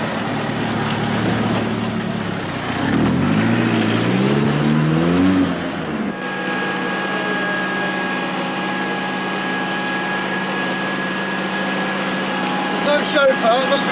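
Car engine as a car is driven, a steady low rumble with a brief revving swell midway, then a smoother hum with a faint tonal whine; the engine stays moderately loud throughout.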